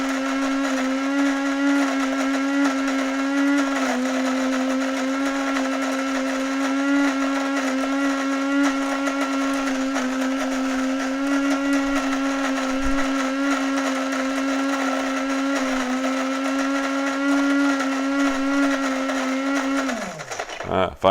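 A Cuisinart DGB-800 grind-and-brew coffeemaker's burr grinder grinds coffee beans with a loud, steady mechanical whine that runs continuously, then winds down and stops near the end.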